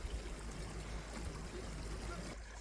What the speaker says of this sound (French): Parce que l'eau coule à mes pieds